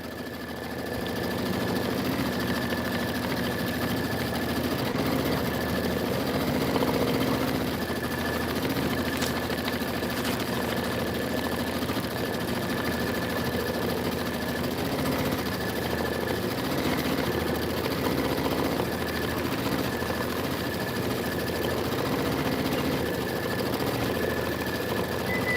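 A sewing machine stitching autumn quilt borders in a sewing and vacuum shop, a steady, continuous mechanical hum and whir that runs unbroken at moderate level with no talking.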